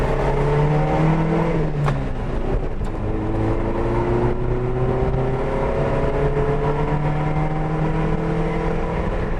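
Nissan Hikari B12 compact car from the 1980s accelerating harder, the engine note climbing steadily and continuously in pitch, heard from inside at a moderate, even level with no talking.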